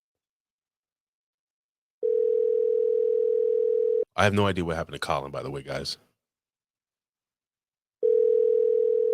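An unanswered telephone call rings out as a steady electronic ring tone, two long tones separated by a few seconds of a person talking.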